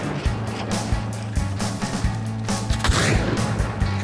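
Gunshots in the video game Hunt: Showdown: repeated loud muffled shots at uneven intervals over a steady low engine-like hum, fairly close and dense.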